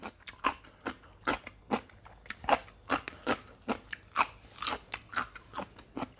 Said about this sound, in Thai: กรอบลั่นบ้าน